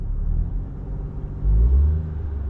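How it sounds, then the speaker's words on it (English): A car engine idles with a low rumble, then swells into a brief rev about halfway through as gas is given, before settling back down; no talk. "let me give it a little gas"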